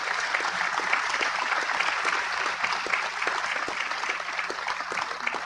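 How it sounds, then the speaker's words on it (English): Sustained audience applause at the opening of a global biodiversity summit, a dense, even wash of many hands clapping in a large hall, steady and moderately loud throughout. "we should give her a huge round of applause for her continuous, sustainable work"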